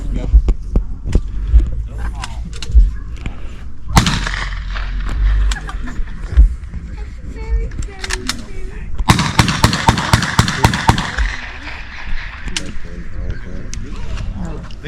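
WWII submachine guns fire blanks outdoors in sharp bursts: scattered single shots, then a dense rapid string of cracks near the middle, with voices talking between volleys.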